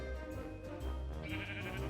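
Sheep bleating in Minecraft, a short wavering baa lasting about two seconds, close and clear with no talking over it.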